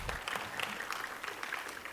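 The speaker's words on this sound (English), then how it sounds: "I want to give all these people on the slide a round of applause" Applause from a conference audience after a talk on researching and exploiting the Stagefright flaw, a steady wash of clapping that fills the short stretch at a moderate level.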